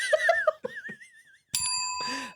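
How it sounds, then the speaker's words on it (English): After brief laughter and chatter, a bell rings once with a bright, sustained metallic tone that lingers and fades. "That's the bell."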